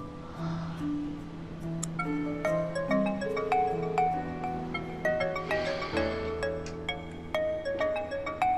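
A mobile phone ringtone plays a bright, repeating electronic melody of quick tonal notes, steady and fairly quiet with no talking.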